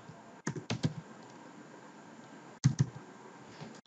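A few short bursts of computer keyboard typing, two separate clusters of quick clicks with a quiet pause between them, entering employee names into an Excel wage sheet.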